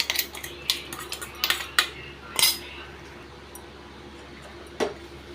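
Spoon scraping and clinking against a metal pot while spice powder is stirred into bisibelabath, a South Indian rice and lentil dish, giving a run of close, irregular clatters that thin out to occasional taps over low background hum.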